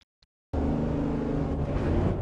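A race car engine in Gran Turismo 7 at the Streets of Willow Springs circuit bursts in after near silence and roars loud and steady under full throttle, with no talking.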